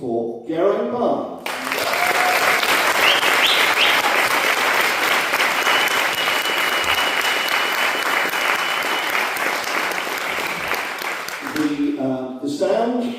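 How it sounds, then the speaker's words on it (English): Dense, sustained applause from an audience in a church for the conductor at a remembrance concert, a loud continuous wash of many hands clapping for about ten seconds, with speech just before and after. "a big round of applause,"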